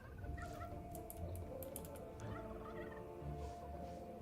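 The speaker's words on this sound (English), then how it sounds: "Okay, and then we got the chickens." Chickens in the video game Dungeons 3, with repeated gobbling, clucking calls in short bursts over a low ambient game background and some faint clicking.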